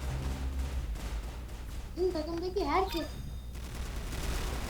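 An M249 machine gun fires in Roblox Arsenal as a quiet, rapid rattle of shots under game noise, with a voice speaking briefly in the middle.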